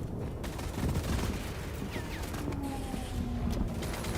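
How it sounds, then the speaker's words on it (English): Machine gun fire rattles in the shooter game STALCRAFT:X, a steady, moderately distant fusillade of rapid shots mixed with other gunfire and ambient game noise, with no talking. "A machine gunner up there."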